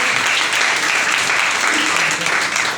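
An audience claps loudly at an IMC business event for two presenters, a brief, dense burst of clapping lasting nearly three seconds, with voices faintly mixed in.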